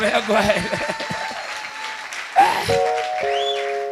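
Congregation applause at a church service, brief clapping under a preacher's ongoing speech, with musical tones and a short loud accent partway through.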